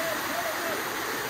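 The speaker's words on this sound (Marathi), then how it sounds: "मंडळी बघू शकता नदी झाली नदी" A river rushes near Raigad Fort in Maharashtra, a steady broadband wash of flowing water that stays even and continuous throughout, fairly close and without pause.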